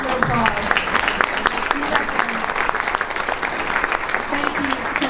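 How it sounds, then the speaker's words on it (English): An audience at a heritage days event gives library staff a big round of applause, dense continuous clapping from a crowd with scattered voices underneath. "big round of applause"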